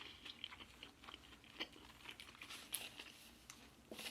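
Close chewing of beef from a pho and sushi mukbang meal, with soft wet crunches and bites repeating irregularly over several seconds, quiet and up close, no talking.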